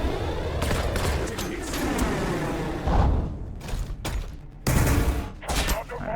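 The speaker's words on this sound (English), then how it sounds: "So he's using his missiles here." Ork missiles firing and exploding in a Warhammer 40000 Battlesector multiplayer battle against Tau, heard as a dense rumbling barrage with several loud bursts and booms over constant battle noise.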